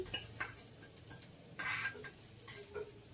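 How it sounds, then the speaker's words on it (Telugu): Two spoons of sesame seeds tossed into a hot pan and stirred, giving soft sizzling and scraping strokes in irregular bursts, close and quiet, with no talking. "ఇప్పుడు నువ్వులు కూడా వేసేసుకుందాం. ఒక 2 స్పూన్లు నువ్వులు తీసుకున్నాను."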